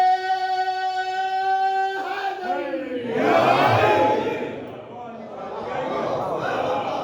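At a religious gathering in Karachi, a single voice calls out a slogan, then a large crowd shouts back loudly in unison, their roar swelling and then carrying on.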